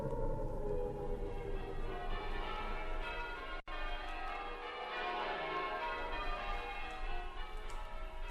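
Church bells ring continuously with layered, overlapping peals, steady and moderately distant, with no voices.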